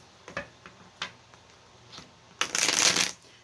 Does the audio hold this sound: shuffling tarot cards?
yes